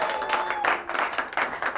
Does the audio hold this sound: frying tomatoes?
no